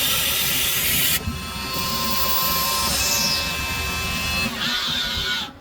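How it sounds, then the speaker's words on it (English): A shop machine makes the cutoff on a Harrelson trumpet mouthpiece rim, a loud, steady hiss with high whining tones that holds throughout with a couple of brief shifts in pitch. "Okay, so now it's going to do the cutoff."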